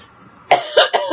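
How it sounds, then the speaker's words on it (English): A person coughs three times in close succession, the bursts near and fairly loud, while drinking tea with a stuffy nose and a fading voice. "excuse me, got a little cough"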